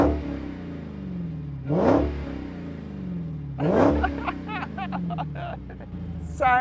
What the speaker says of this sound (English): Dodge Challenger Hellcat. It's absolutely nuts, this thing. And then there's the noise it makes.